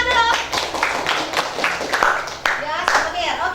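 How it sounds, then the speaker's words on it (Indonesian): Classroom of students clapping for a prize-giving, a busy patter of hand claps mixed with a teacher's and children's voices talking over it throughout. "Ya, oke, tepuk tangan dulu."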